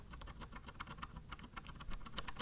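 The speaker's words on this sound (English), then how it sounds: "Hear the metal on metal contact?" Keys clicking on a Kinesis Advantage ergonomic keyboard with metal-on-metal contact, a quick, uneven run of close, scratchy keystrokes heard alone.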